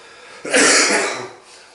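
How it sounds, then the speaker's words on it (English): A single harsh, breathy cough up close from a person sick for over a month, loud and abrupt, trailing off into a short throaty exhale. "If I cough a little bit here during this video, bear with me."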